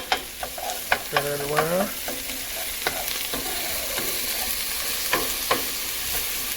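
Garlic frying in a pan for plant-based creamy mushroom soup, a steady sizzle with scattered clicks and scrapes of stirring, and a brief spoken phrase partway through.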